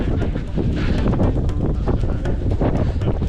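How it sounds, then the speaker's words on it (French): Steady icy wind buffeting an outdoor microphone at the start of a trail race, a continuous low rumble with gusty rustling throughout and no voices. "il y a un petit vent bien glacial"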